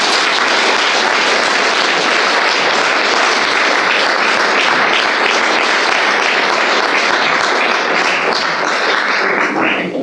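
A ceremony audience marking a 100th birth anniversary claps loudly and continuously, a dense, even wash of many hands that lasts throughout with no voices over it.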